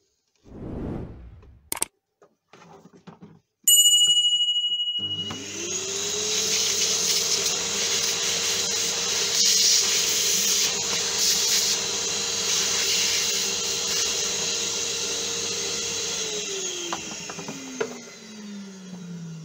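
A small vacuum cleaner runs in a steady whine while cleaning an OKI color laser printer toner cartridge during refilling, preceded by a few clicks and handling noises, then winding down at the end, with no talking.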